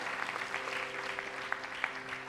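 A church congregation applauds a couple at an anniversary celebration, a steady patter of many hands clapping with a sustained organ-like tone underneath, moderately distant.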